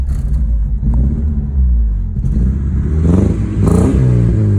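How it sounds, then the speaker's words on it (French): A 1988 Opel Corsa GSI exhaust rumbles low and loud, then the engine revs up in a couple of short bursts with a rough, crackling edge. "Le petit bruit de la ligne d'échappement."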